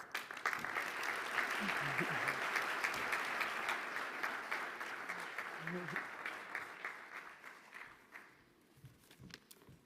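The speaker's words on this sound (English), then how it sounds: "Please, a big round of applause." Loud, sustained applause from a large crowd at a congress opening ceremony in Lisbon, dense clapping that gradually thins and fades toward the end.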